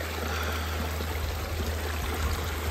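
Water runs in a steady, even rush at a small outdoor spot where a hiker soaks tired feet on the trail. The flow stays constant and close, with no talking.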